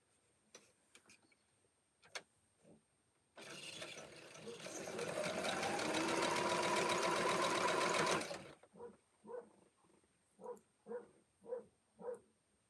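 A sewing machine stitches quilt pieces together into a nine-patch block: a quiet tick or two, then a rapid mechanical run of about five seconds, followed by scattered soft knocks.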